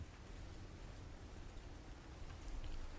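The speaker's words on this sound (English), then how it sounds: "It's raining buckets out here" Steady, dense wash of heavy rain falling outdoors, a constant broadband hiss with patter on surfaces that swells slightly louder near the end; no voices.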